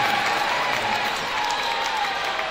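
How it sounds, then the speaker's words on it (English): A home crowd at a high school basketball game in Viking Hall, Abingdon versus Dorman at the Arby's Classic, gives a loud, sustained roar of cheering and clapping that fills the gym. "That gets a cheer from the Viking Hall faithful."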